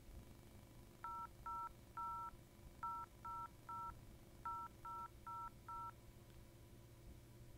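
A phone number is keyed in on a touch-tone phone: ten clear beeps in groups of three, three and four, each group quick and evenly spaced, over a faint steady hum.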